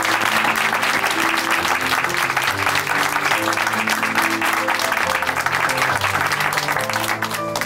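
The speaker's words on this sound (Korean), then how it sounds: "이제 더욱더 하나님이 주신 참 자유로 행복하고 기쁜 삶을 누리시라고 박수로 응원해" Audience applause at a church testimony program, steady, dense clapping from a crowd lasting several seconds, with sustained music tones underneath.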